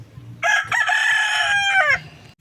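A rooster crows once, a loud, close cock-a-doodle-doo lasting about a second and a half with a harmonic, strained call and a falling tail, over faint farmyard background.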